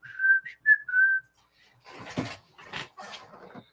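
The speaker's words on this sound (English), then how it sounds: "you always whistle that tune from that one commercial" A person whistles a short, bright tune of a few clear notes from a commercial, followed by quiet, muffled indoor clatter and shuffling.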